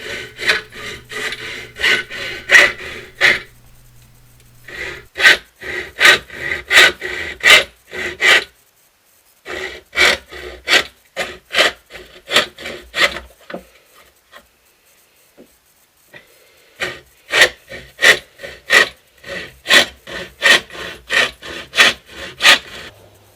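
Rhythmic hand sawing through a plastic Light Linker enclosure box, sharp back-and-forth strokes in close bursts separated by short pauses, loud and alone.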